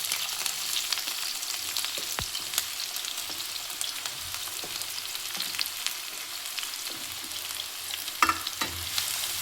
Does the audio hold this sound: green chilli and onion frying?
yes